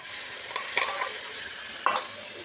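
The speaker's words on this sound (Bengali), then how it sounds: "এবার আমি এটাকে ভালো করে কষাই, যতক্ষণ না মশলাটা থেকে তেল ছেড়ে আসছে ততক্ষণ আমি এটাকে কষাতে থাকবো সিমে" Spice paste of whole chilies, ginger, garlic, cardamom, cinnamon and nutmeg frying for spicy chicken kosha, with a steady close sizzle broken by several scraping stir strokes against the pan.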